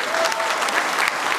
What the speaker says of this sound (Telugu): ఒక్కసారి గట్టిగా చప్పట్లు కొట్టాలండి అందరూ